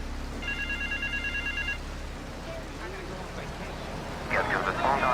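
A telephone rings in a repeated electronic trill in GTA 3 Definitive Edition, moderately loud over a low engine rumble, followed by people talking.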